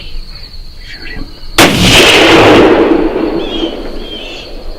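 A single loud rifle shot during a youth whitetail deer hunt in Kansas, a sharp close blast with a long rolling echo fading over several seconds, with insects chirping faintly in the background.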